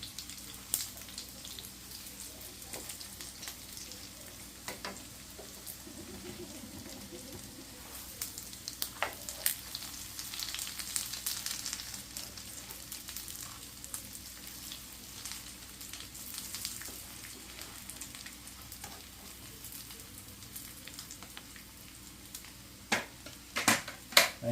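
A chicken burger patty frying in a pan, giving a steady low sizzle with soft crackles and a few sharper pops, close and fairly quiet, with no talking.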